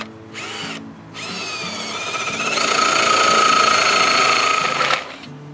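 Power drill with a 1.5-inch wood bit boring into a log for a birdhouse, a loud whirring motor that starts and stops briefly, then rises into a sustained grinding bore before cutting off, with no talking.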